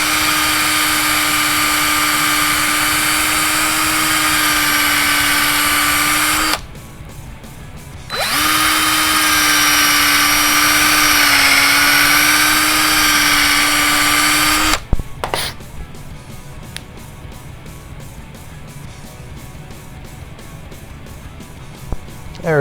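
A power drill reams a plastic part for a Tekno NB48 2.1 RC buggy in two long steady whining runs with a brief pause between, then stops abruptly, leaving quieter handling clatter.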